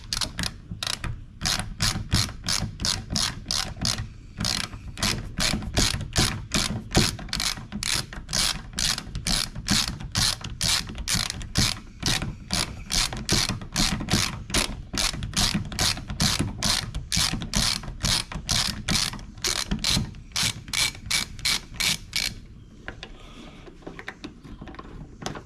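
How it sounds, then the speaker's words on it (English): Rapid ratcheting from a hand ratchet wrench backing out two Torx T50 bolts on a Jeep hood latch, a long run of steady, close clicks that stops near the end. "First we'll remove those two Torx. They're T50s. So let's go ahead and remove them real quick."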